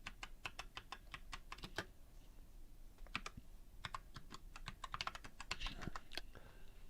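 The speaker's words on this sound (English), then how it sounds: "just typing in a search here" Someone types quickly on a computer keyboard, with crisp rapid clicks in two bursts separated by a brief pause, close and fairly quiet, with no talking.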